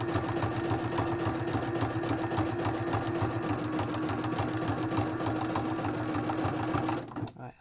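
A sewing machine stitches small art journals in a close, loud, steady mechanical whir with a rapid regular needle rhythm that runs unbroken for several seconds and then stops abruptly.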